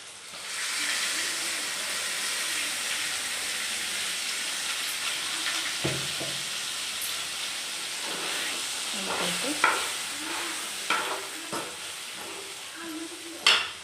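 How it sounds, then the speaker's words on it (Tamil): Ground paste and raw banana sauté in a hot pan with chilli powder, a steady loud sizzle and hiss throughout, with occasional scraping stirs and knocks of a spoon toward the end. "நல்லா இதுலேயே ஒரு 1/2 வேக்காடு வதக்கிக்கலாம்."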